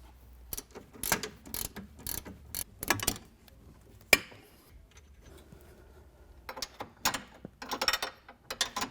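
Hardware holding the factory steering rack of a Polaris RZR Turbo S gets removed: sharp ratchet clicks come in quick bursts, separated by quiet pauses and occasional metallic clinks, close-up.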